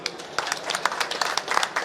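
An audience in a mall claps and applauds at a film event, a steady burst of many hands clapping close by, dense and lively.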